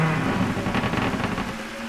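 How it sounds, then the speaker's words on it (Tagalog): Heavy, constant rain pours down in a dense, even hiss with no voices, steady and close throughout. "walang tigil ang ulan"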